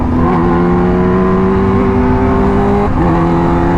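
A loud Kawasaki Ninja H2R motorcycle engine idles and revs close by, with a steady droning tone that dips briefly near the end.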